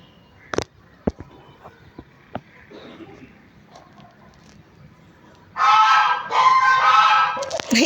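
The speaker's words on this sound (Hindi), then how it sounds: "पीछे से आप लोगों को बत्तख की आवाज़ आ रही होंगी," Loud duck quacking bursts in near the end after quieter scattered knocks and background noise, a dense raucous flock calling close by in a home garden.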